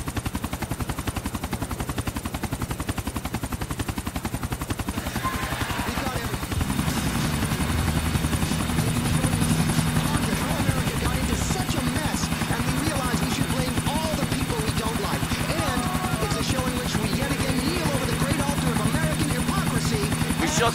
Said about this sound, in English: Shut down that chopper for you.